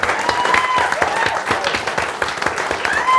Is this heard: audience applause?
yes